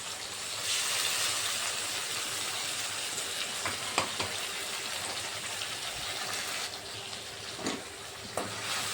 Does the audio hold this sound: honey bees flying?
no